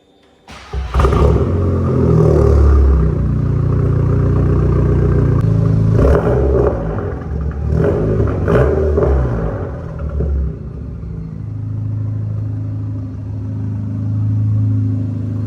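Audi TTS fitted with a Milltek exhaust fires up with a sharp bark, then settles into a loud, deep idle punctuated by several quick revs before easing back to a steady rumble, close by.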